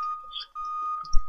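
An electronic alarm in the Minds Eyes video game, a steady high tone with brief beeping accents and a low thump near the end, with no voices.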